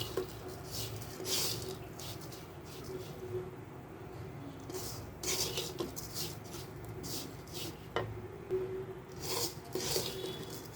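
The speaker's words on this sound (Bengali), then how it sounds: "চিনি দেওয়ার পর আবারও অনবরত নাড়তে থাকবো।" Vermicelli (semai) with added sugar is stirred continuously in a pan, producing faint, rhythmic scraping and rasping strokes that repeat every second or so, soft and close.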